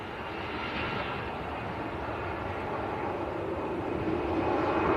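An EasyJet Airbus A320 rolling for takeoff at Manchester Airport, a continuous moderate jet roar that builds gradually and grows louder near the end, with no voices.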